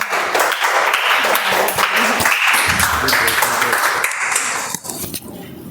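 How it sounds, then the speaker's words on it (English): A meeting audience gives a big round of applause to welcome Toastmaster Vineet, with loud, steady clapping mixed with voices and murmurs that thins out near the end. "So let me welcome with a big round of applause."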